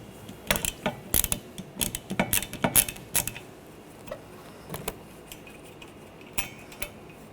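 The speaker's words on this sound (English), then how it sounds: "Using a 15mm socket," Ratchet wrench with a 15mm socket loosening the wiper arm nut on a 2013-2019 Ford Escape, giving bursts of quick metallic clicking and ratcheting in short clustered runs, close and fairly clear over a quiet background.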